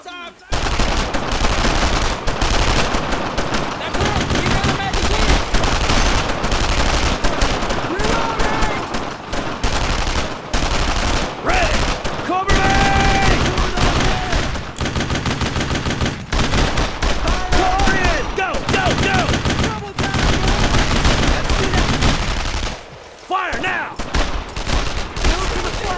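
Sustained heavy gunfire in Brothers in Arms: Road to Hill 30, nearly continuous machine-gun and rifle bursts at close range for a long stretch, briefly dipping near the end, with voices shouting amid it.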